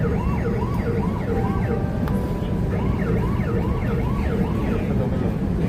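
A ticket scanner machine's wailing electronic siren alarm repeats in rising-and-falling sweeps over a steady, busy background hum, loud and continuous throughout.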